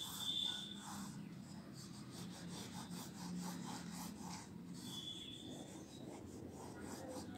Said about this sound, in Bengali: আমি রংটাকে কিভাবে ঘষছি দেখো